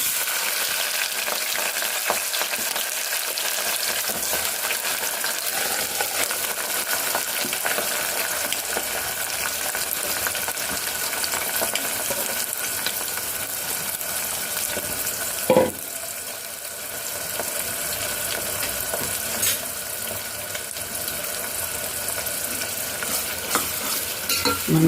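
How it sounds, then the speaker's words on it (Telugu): Chopped onions and green chillies fry in oil in a pan, a dense, continuous loud sizzle and crackle held steady throughout, with one brief sharp knock partway and no voices. "ఇప్పుడు ఈ ఆయిల్లో సరిపడినంత ఆయిల్ వేసుకొని ఉల్లిపాయలు పచ్చిమిరకాయలు ముక్కలు వేసుకోవాలండి"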